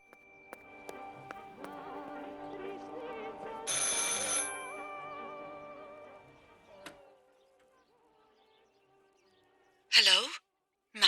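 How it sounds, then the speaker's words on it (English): A telephone rings in the video game Martha Is Dead amid a sustained tonal ambient score, with a burst of noise midway and two sharp, loud ring bursts near the end. "I should pick up the phone but remain silent."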